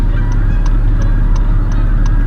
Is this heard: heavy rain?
no